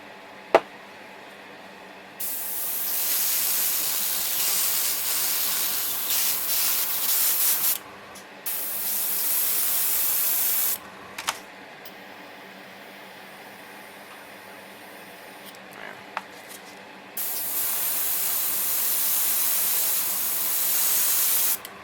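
An airbrush for a Bandai 1:100 Macross Missile Phalanx plastic model kit sprays air through its nozzle in several long, steady hissing bursts separated by short pauses, close and fairly loud, with a few faint clicks between bursts.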